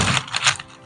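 Crisp coated fried fish being broken or bitten, a quick cluster of dry, close crackling crunches lasting under a second.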